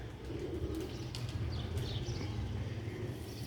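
Sialkoti pigeons cooing close by in soft, repeated low coos that run continuously, with a few light chirps and faint wing flutters mixed in.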